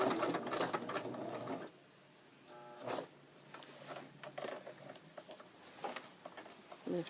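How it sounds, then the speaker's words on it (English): A sewing machine stitches a patch onto work pants along a double-thickness edge near a rivet, running in steady bursts with short pauses between runs, close and moderately loud. "I'm sewing right along this edge where there's a double thickness"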